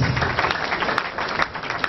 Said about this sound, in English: Can we please give our able and performing people another round of applause?